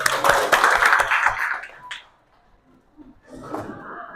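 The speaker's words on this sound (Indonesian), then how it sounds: "Oke, tepuk tangan dulu." Students clapping hands in a classroom, a burst of brisk rhythmic claps that fades out, with a short pause before faint movement and voices return.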